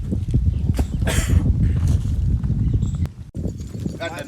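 A mare carrying a rider walks on a farm, her hooves clip-clopping in a steady rhythm amid outdoor background noise and some voices.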